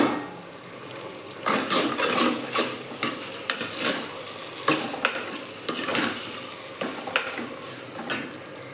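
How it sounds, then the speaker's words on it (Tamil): Onions sautéing in a clay pot, with a loud, steady sizzle broken by repeated scraping stirs of a spoon against the pot, close up and without talk. "வெங்காயம்லாம் நல்லா வதங்கிடுது பாருங்கள்."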